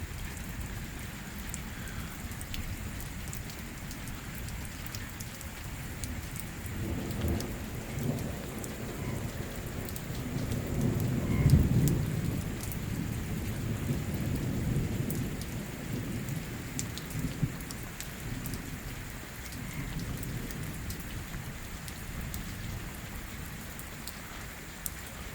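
Heavy pre-monsoon rain pours steadily in the Pothwar region, a dense hiss of drops on surfaces with low rumbles of thunder swelling midway and scattered close splashes, no voices.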